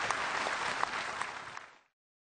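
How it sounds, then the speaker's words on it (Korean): An audience applauds the Chairman of the Joint Chiefs at a ceremony with the president, a dense, even burst of clapping with a few sharper claps, ending abruptly after about two seconds. "여러분 다시 한번 큰 박수를 부탁드리겠습니다"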